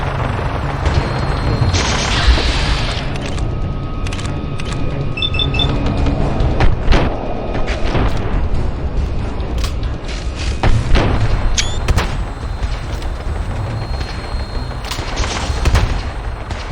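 Gunfire from a shotgun and a laser rifle in the Fallout 4 video game, with repeated loud booming shots and mechanical clatter over a continuous rumbling game soundscape.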